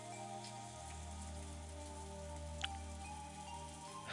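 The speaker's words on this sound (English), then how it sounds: "As we listened to the sound of the rain" Rain from a visual novel falls steadily on a surface in a continuous, even patter, with a low constant hum underneath and one brief sharper drip near the end.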